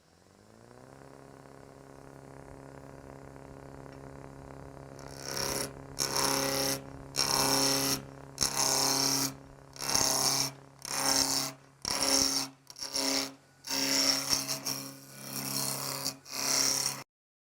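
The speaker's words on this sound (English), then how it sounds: "using a spindle roughing gouge, the ideal cut for this particular tool, I'll rough it down to the round," A spindle roughing gouge roughs wood down to round on a lathe: after a steady motor hum, loud rhythmic bursts of cutting rasp repeat about a dozen times, each separated by brief gaps.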